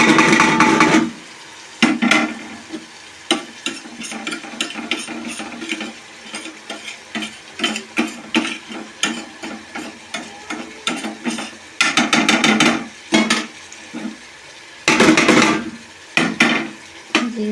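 Beef fries in a pot with salt, chili, garam masala, chopped tomatoes and kalonji for a village-style beef pulao. A spoon scrapes and clatters in repeated stirring strokes over a bubbling sizzle.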